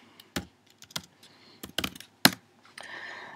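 Typing a folder name on a Mac computer keyboard: a few separate key clicks, then a brief burst of quick taps, close and moderately quiet with no talking.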